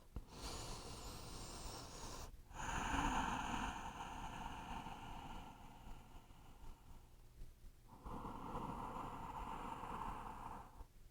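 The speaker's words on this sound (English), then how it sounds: "we'll just take 4 or 5 breaths here" Slow, deep breathing during a yoga pose: long, airy inhales and exhales in broad swells, close and fairly quiet, with no talking.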